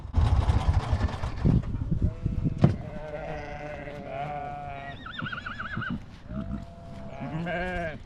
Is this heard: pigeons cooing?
no